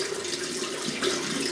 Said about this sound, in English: Let's put some water in this brush.